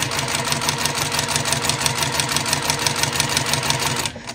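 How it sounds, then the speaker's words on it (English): A sewing machine stitches a quarter-inch seam along a quilt block, running at a steady, fast, even rhythm close up for about four seconds before slowing and stopping near the end. "So I'm going to start right on the very edge and then stitch along till I get to the bottom edge here."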